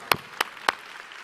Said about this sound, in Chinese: 给 Reway 一个掌声的